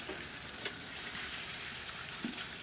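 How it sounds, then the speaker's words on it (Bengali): Mutton being sautéed with spices in a pot over a wood fire, with a steady close sizzle and a couple of soft stirring scrapes, no talk. "হবে খাসির মাংস সবে কি মশলা কষানো হচ্ছে"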